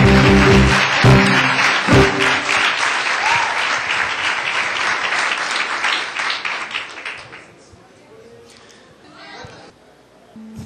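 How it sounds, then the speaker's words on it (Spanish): A church congregation bursts into loud sustained applause with cheering voices, holding strong for about seven seconds before fading to scattered claps and quieter murmur. "dale un aplauso que se oiga en el cielo"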